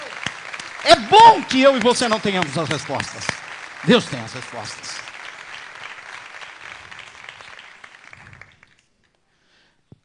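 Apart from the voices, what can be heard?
congregation applause in church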